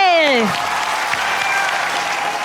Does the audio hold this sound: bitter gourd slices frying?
no